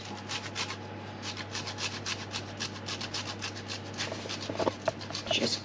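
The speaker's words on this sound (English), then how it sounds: "And I'm just going to grate some of that over the top as well as the cheddar." Parmesan and cheddar are grated over a lasagna in rapid rhythmic rasping strokes, close and fairly quiet, with a few sharper scrapes near the end.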